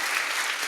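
Audience applause at the close of a physics lecture on intertwined entanglement in topological pumps, a dense steady clatter of many hands clapping throughout the brief moment, with no voices.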